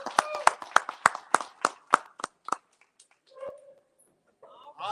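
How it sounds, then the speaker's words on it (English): Audience applause for Parker High School at an Alabama high school basketball media day, with bursts of clapping and cheering over the first three seconds that fade out. A voice speaks briefly near the end. "let's clap it up for Parker High School"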